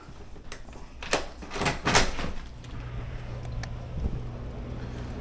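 A side door of a Florida house opens, heard as a few close, rough, rattling bursts of movement in the first two seconds. These give way to quieter shuffling and a steady low background hum.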